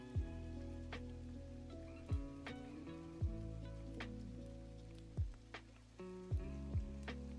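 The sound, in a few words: rain falling in a video game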